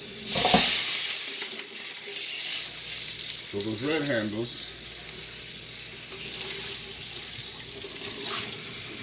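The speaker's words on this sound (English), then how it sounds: "I'm just gonna put over water and it's gonna clean it off pretty quick." Hot popcorn popper pan rinsed under running tap water, a loud rushing flow with sizzling and hissing as the heated metal meets the water, with a brief spoken voice partway through.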